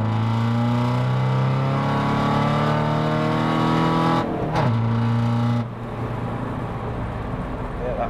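A car with a tuned VW 1.6 TDI engine making 263bhp accelerates hard, its loud, close engine note climbing steadily, dropping at a quick gear change, then pulling again.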